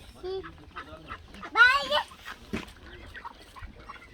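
Farm ducks or geese honking and quacking nearby, a few scattered calls with one louder honk, mixed with people talking close by.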